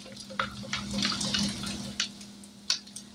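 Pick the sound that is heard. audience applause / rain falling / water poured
water poured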